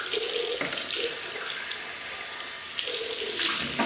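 Tap water runs steadily into a sink while a Gillette Slim Twist razor is rinsed during a shave with Wilkinson Sword shaving soap. The stream is loud and close, and its sound shifts as the flow is broken and then returns to full strength.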